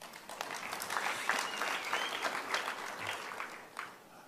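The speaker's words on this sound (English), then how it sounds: "I think we must applaud them for that." Audience applause at a press briefing on illegal mining and crime in Krugersdorp: a steady, moderately distant patter of many hands clapping that holds for several seconds, then tapers off at the end.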